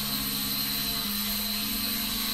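A K105 Max drone with 360° obstacle-avoidance sensors hovers and drifts nearby, giving a steady high-pitched motor whine with a shifting buzzing tone throughout, with no talking.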